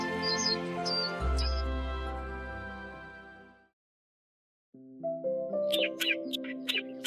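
A small, magical little bird in a narrated children's story chirps in quick, high tweets, first over soft music, then after a short silence in a bright run of bursts, near and clear.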